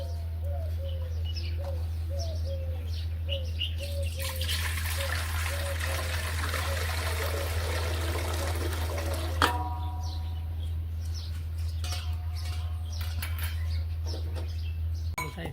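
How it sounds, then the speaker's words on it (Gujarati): Water pours steadily into a pot with a splashing trickle, while chickens cluck nearby and a low hum runs underneath. "હવે અંદર રેડવાનું છે પાણી."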